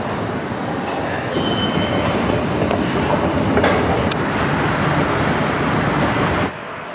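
A train on the airport railroad line to Gimpo Airport rumbles loudly and continuously with rattling wheels and a brief high squeal, then cuts to quieter background hum near the end.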